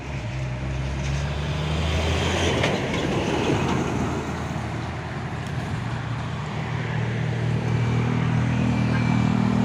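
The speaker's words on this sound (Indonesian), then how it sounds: "Truk tangki Puso." A Puso tanker truck rolls past on the road with a loud, steady engine rumble and droning low hum that swells and holds close by, with no voices present.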